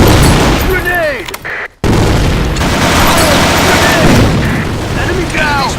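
A video game firefight in a sandstorm, with loud, close booms and bursts of gunfire, including an explosive blast after a brief drop-out, set against continuous battle noise.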